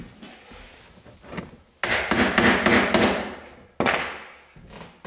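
Sharp metallic hammer taps ring out close up on lead came for stained glass, a quick series of blows followed by a pause and a couple more strikes.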